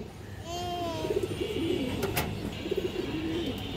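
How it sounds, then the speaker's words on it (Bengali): Domestic pigeon cooing in a bird-sale setting, a steady run of soft low coos repeating through the clip, close by, with other birds chirping faintly behind. "খুব সুন্দর একটা কবুতর।"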